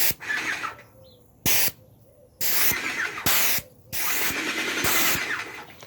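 A handheld sprayer mists foliar feed across a yard in repeated loud hissing bursts, each about half a second to a second long, with brief gaps and faint bird calls between them.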